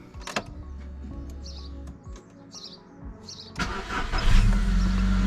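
A car engine cranks and catches outdoors after a stretch of chirping birds, then roars up loudly and keeps running close by.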